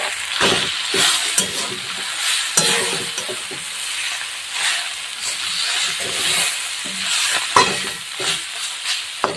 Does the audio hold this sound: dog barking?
no